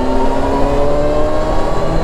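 A motorcycle engine drones at steady, high revs during a test ride, loud and close with a constant tone and no break across the short stretch.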